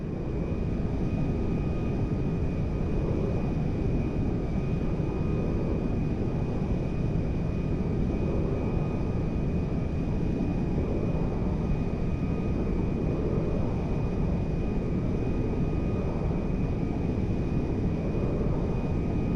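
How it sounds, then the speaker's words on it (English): A cargo jet in flight in Grand Theft Auto 5 gives a steady, loud, unbroken engine roar with a thin constant whine above it, lasting throughout. "Ronnie, the cargo jet is now part of the TP Enterprise fleet."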